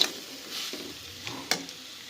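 Spice paste with tomato fries in a pan, with soft sizzling under a few scrapes and taps of a stirring utensil, quiet and close.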